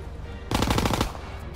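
Automatic gunfire in Call of Duty WWII, one loud, rapid burst of about half a second over a low rumbling game background.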